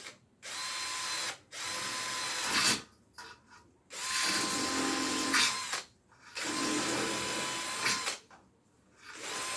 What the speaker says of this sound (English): I can't drill over your head